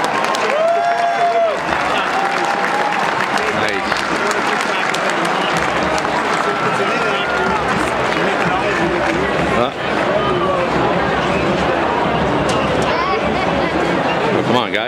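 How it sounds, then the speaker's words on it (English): An audience at an Army football game applauds a championship group of athletes, with sustained loud clapping and crowd noise, cheers and a voice over the stadium sound throughout. "Please give this group of outstanding athletes a large round of applause."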